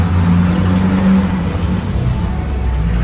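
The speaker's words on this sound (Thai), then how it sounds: "เครื่องยนต์ก็จะสตาร์ทติดนะครับ" A Honda Accord G8 engine started by remote start, running at a steady, loud idle hum close by with no one talking.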